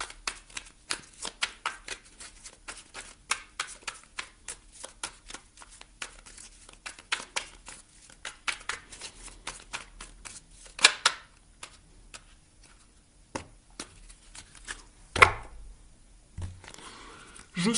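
Tarot cards are shuffled and drawn by hand, giving a steady run of soft flicking, riffling taps close up, ending with a few louder card slaps and rustles.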